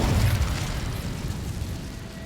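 The Incendio fire spell goes off in Hogwarts Legacy, a dense burst of noisy crackling energy with a heavy low rumble at the start that slowly fades into a hissing wash.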